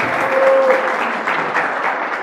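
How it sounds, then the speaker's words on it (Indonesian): Audience applause at a Friday religious study session in a Muhammadiyah vocational school hall, a steady wash of clapping from many hands throughout, fairly loud and close, with a brief tone briefly audible. "Tepuk tangan dulu semuanya"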